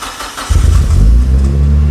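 A Mitsubishi Evo 7 at a Bonhams auction cranks and fires about half a second in, then settles into a loud, close, steady idle with a deep rumble.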